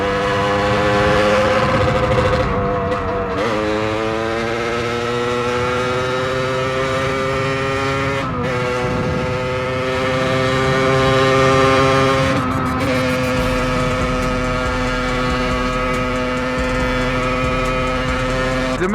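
A Supermot 50 motorcycle engine idles and revs loudly, its exhaust missing the rock wool packing; close, droning tone that rises and falls across several throttle blips, with brief pauses between pulls.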